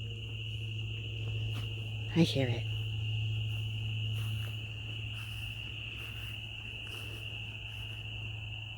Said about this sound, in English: those are the spring peepers.